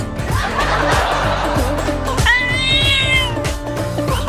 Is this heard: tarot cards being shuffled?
no